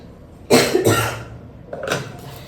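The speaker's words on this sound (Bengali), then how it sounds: "কাশিটাও আরম্ভ হচ্ছে এবারে" Two close coughing bursts from a person at home in a kitchen, followed by a softer third cough a moment later, loud and nearby against quiet background.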